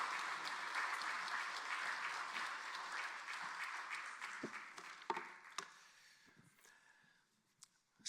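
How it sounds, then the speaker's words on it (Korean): A church congregation claps loudly to welcome a pastor to the pulpit at a Sunday worship service, sustained dense applause that thins into scattered claps and fades out over several seconds. "우리 목사님 올라올 때 큰 박수로 환영하겠습니다."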